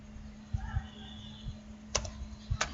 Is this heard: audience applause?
no